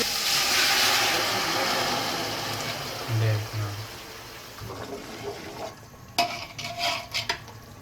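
Meat stock (yakhni) poured from a pressure cooker into a pot for beef keema pulao, a loud splashing, gushing pour in the first few seconds that tapers off, followed by scattered clinks and knocks of cookware.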